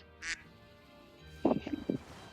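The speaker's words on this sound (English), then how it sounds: "Is that a duck?" Duck quacks in the Pokémon Scarlet/Violet video game: one short nasal call, then a quick burst of three or four quacks close together, fairly loud over quiet background hum.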